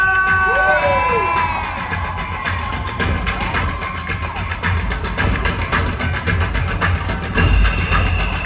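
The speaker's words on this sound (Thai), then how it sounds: "ขอเสียงกรี๊ดดังให้กับนาเดชคุกิมิยา" Fans scream and cheer loudly for the actor at a gala press event for the Mufasa film at Siam Paragon, a dense, sustained crowd roar with whoops and shrill shrieks rising early and continuing throughout.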